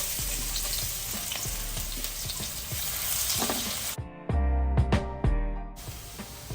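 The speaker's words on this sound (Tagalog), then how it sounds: "igigisa na natin ang bawang." Garlic sautés in a hot pan, a loud continuous sizzle and hiss with scraping stirs, and the frying surges in louder spitting bursts partway through.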